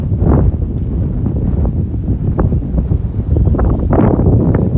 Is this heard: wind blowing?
yes